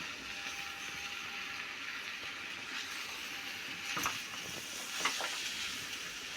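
Watermelon peel sautés in oil with masala, a continuous soft hiss of frying with a couple of brief scraping stirs partway through.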